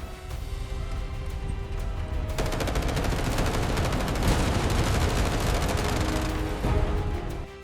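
Dense World War II aerial combat gunfire near Midway, rapid machine-gun bursts and anti-aircraft fire, loud and continuous across the whole stretch with a heavier barrage building midway, no voices.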